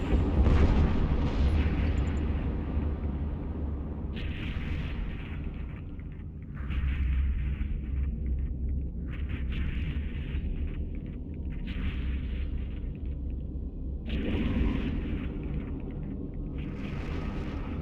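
Ships blowing up under missile fire in the space game EVE Online, a continuous deep rumbling roar with repeated crackling blasts layered over it, loud and sustained with no voices.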